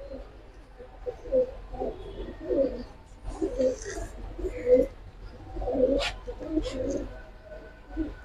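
Kaldom and other colored pigeons coo in soft repeated throaty phrases at close range, a steady rhythm of low burbling calls over faint background noise and some murmured voices.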